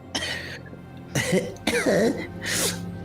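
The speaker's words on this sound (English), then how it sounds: "Like does a wet cough." Several wet, phlegmy coughs from one person, heard close and in three or four separate bursts with short pauses between them, and no talking over them.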